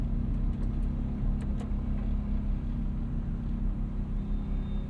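A 2008 Ferrari F430 Spider with a V8 engine rolls along with a steady, deep engine rumble, close and even, with no voices over it.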